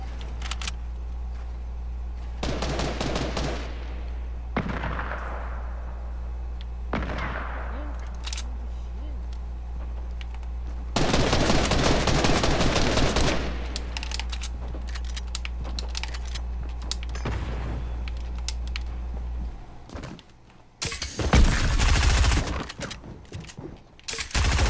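Rapid bursts of gunfire from the Fortnite video game crackle through a steady game soundtrack, with several short volleys and a louder sustained burst midway, ending in a final heavy flurry.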